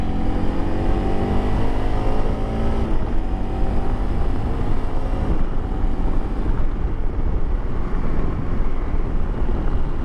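Honda CRF300L Rally motorcycle engine revving up while riding, a steady loud drone with rising harmonics that climb through the first seconds, buffeted by heavy wind noise throughout.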